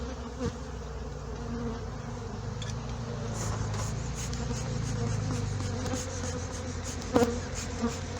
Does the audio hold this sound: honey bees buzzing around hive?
yes